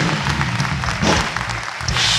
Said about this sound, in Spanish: Aplauso para Kevin Contreras